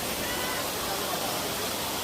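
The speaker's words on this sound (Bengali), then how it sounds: "এটা হচ্ছে লাদাই ঝর্ণা।" Ladai waterfall roaring continuously nearby, water tumbling down from the hills in an even, unbroken wash of noise.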